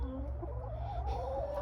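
Chickens in a pen clucking softly with short low murmurs and a few brief calls over a steady background hum, fairly faint, with no talk.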